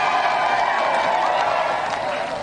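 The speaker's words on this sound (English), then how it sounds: "let's give another round of applause for our challenger" A studio audience on a game show applauds challenger Martin Mathers, a brief, dense wash of clapping and cheering that stays loud and steady, then eases slightly at the end.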